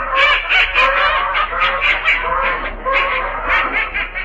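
A loud, dense chorus of hundreds of ducks quacking and honking together at a pond, continuous and close, with many overlapping calls, from a 1939 radio show.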